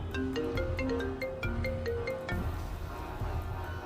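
A phone ringtone plays a short repeating melodic tune, then cuts off abruptly, leaving background noise.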